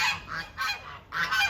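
Geese honk repeatedly outdoors, three bursts of harsh nasal calls spaced through the moment, fairly faint and distant with no talking.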